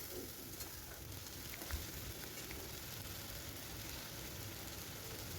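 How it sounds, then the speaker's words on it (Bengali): Ginger and garlic paste with chili frying in a pan for a Bengali ridge gourd curry, giving a steady, soft, continuous sizzle with faint crackle throughout, fairly quiet and with no talking. "এই আদা রসুনটা এবারে খুব ভালো করে কিন্তু কষিয়ে নিতে হবে।"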